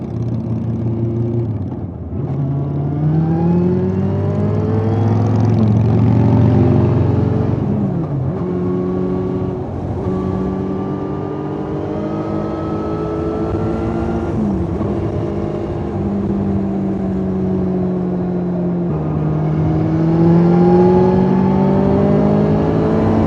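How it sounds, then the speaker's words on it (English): Motorcycle engine revving and shifting while riding on the road, harmonic engine tones rising and falling continuously and loud throughout, with no talk. "The microphone in my back pocket is working, so I can get the engine sound"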